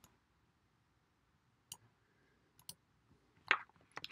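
A computer mouse clicks a few times in a quiet room while drawing lines in krpano software, the sharp isolated clicks sparse at first and bunching closer together toward the end.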